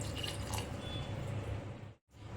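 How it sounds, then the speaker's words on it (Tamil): About two cups of water pour steadily into a pot for pav bhaji with a close, continuous splashing gush, cutting off briefly near the end before resuming. "இப்போ நான் வந்து ஒரு 2 கப்பு வந்து தண்ணி ஊற்றிக்கிறேன்"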